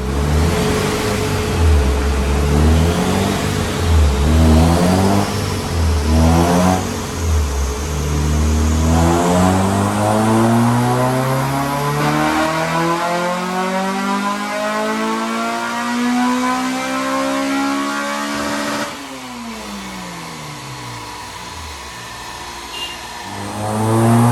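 A remapped Honda Civic EP3 Type R revs on a dyno, first in several sharp blips, then a long climbing pull that rises steadily in pitch before the throttle lifts and the revs fall away, loud and close.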